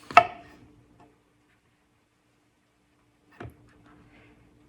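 A knife slices through onions for French onion and mushroom soup, giving two crisp cuts about three seconds apart, close and otherwise quiet.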